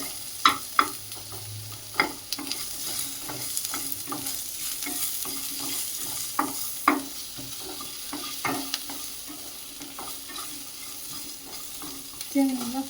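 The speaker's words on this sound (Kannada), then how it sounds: "ಚೆನ್ನಾಗಿ ಹುರ್ಕೋತಿದ್ದೀವಿ." Chillies, onion and other ingredients stir-frying in a hot pan, a steady sizzle broken by sharp spatula scrapes and clinks at an irregular rhythm, close and fairly loud, with no talking.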